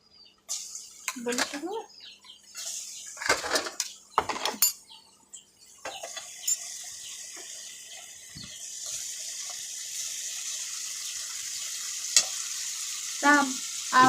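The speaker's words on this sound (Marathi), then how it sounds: "आता आपण बारीक केलेली कैरी टाकूया." Finely chopped raw mango going into a hot pan, first with clattering and stirring, then a steady sizzle and frying hiss that settles in and holds, close and fairly loud, with no talking.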